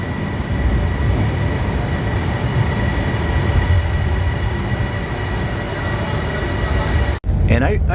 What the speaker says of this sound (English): And I really enjoy taking these trains.